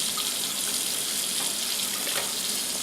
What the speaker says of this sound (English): give it a quick rinse under cold water